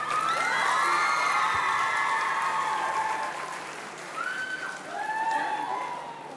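A TV talent show audience at a Macedonian Idol gala applauds and cheers loudly, with shrill whoops and screams over the dense clapping, easing slightly before another swell.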